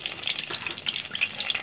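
Oil hissing and sizzling in a hot pan while a pickle is being cooked, a steady bright crackle with no talking.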